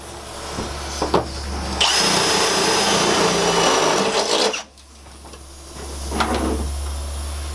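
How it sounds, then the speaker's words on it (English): A power drill whines as it bores through the sheet-metal skin of a Sprinter 170 van, with a few short bursts, one long sustained run, then a final shorter run. "your tailings from drilling through the sheet metal will get stuck between the A-frame and the skin of the van"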